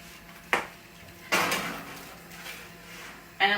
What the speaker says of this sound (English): So now I'm just going to be placing it into the oven,